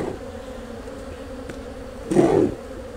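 Honey bees swarm at a starved hive, a close, continuous buzzing hum that swells briefly louder as a few bees pass near, then settles back to a steady drone; no talking.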